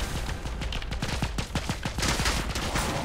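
Rapid bursts of gunfire crack in quick succession, dense and loud, like automatic weapons firing continuously in the game MINIMUM with no talking.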